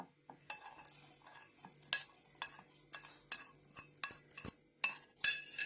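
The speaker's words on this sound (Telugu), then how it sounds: "ఏగిపోయినాయండి మిక్సీ కప్పులో పోసేస్తాను" Fried boondi is tipped from a pan into a mixer jar, giving a series of sharp metallic clinks, scrapes and rattling pours in uneven bursts, close and fairly quiet, with no voices.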